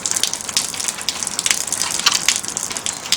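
A water-fed pole brush rinses a window, giving a steady close hiss of spraying and splashing water with brief brush scrubbing surges throughout, no talking.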